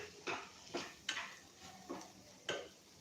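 A spoon scrapes and knocks through spices stirred in a pan, including coriander-cumin powder and turmeric, for a kurkure puff filling: five soft, evenly spaced strokes, fairly quiet, with no voices.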